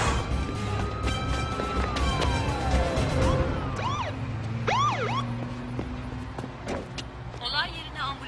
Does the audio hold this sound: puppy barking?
no